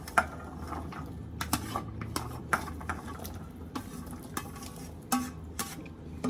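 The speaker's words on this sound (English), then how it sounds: "I'm putting some cut up pumpkin now and carrot and Irish potato." Cut pumpkin, carrot and Irish potato chunks dropped and stirred into a soup pot, giving close clattering knocks and scrapes at an irregular pace over a faint background hiss.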